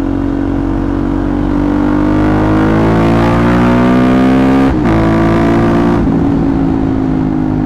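A KTM Duke 250 motorcycle fitted with an aftermarket Aero ProRes exhaust silencer revs loudly and steadily with a muffled, held-back exhaust note, briefly dropping off before picking up again.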